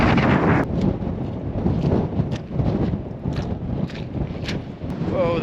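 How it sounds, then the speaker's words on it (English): Strong wind roars and buffets a microphone in a Cairngorms mountain valley in Scotland, a steady loud rush with gusty swells throughout. "Whoa, that's some strong wind."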